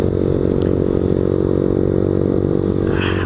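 Steady loud drone of a motorbike engine while riding, a constant buzzing hum with wind rush close to the rider and no break in the sound.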